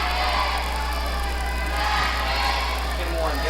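Crowd noise at a high school boys' basketball game, a steady roar of many voices with whoops and cheers sustained throughout, loud and close, with cheerleaders rallying the stands.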